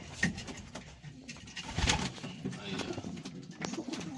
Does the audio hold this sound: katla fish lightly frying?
no